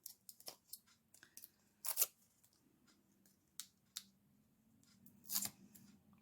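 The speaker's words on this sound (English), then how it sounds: "So just take off the backing paper" Backing paper peeled off a half-size craft sticker for a stitched Christmas snowman project, heard as several short crackly, papery bursts spaced irregularly, close and fairly crisp against a quiet room.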